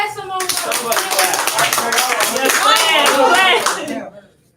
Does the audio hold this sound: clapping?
yes